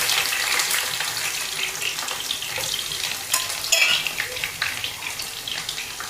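Halved garlic cloves fry in hot oil for lemon pickle, a close, crackling sizzle that runs throughout with scattered sharp spits and a brief clatter as the garlic is stirred in the pan.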